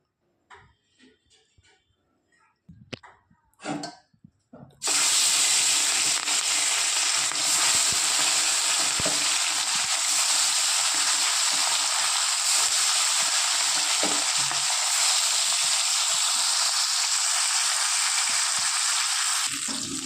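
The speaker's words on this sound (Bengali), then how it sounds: "তেলটা ভালো মতো গরম হয়ে আসলে এক এক করে মাছগুলো ভেজে নেব।" Fish dropped into hot mustard oil in a wok sets off a loud, steady sizzle that continues unbroken, preceded by a few seconds of quiet kitchen clatter.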